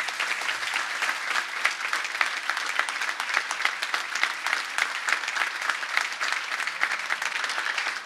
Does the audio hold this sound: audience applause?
yes